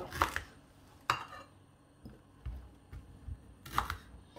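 A knife slices through the base of an endive on a cutting board, giving a few sharp, quiet crunchy cuts spaced a second or more apart, with soft low handling noises between them and no talking.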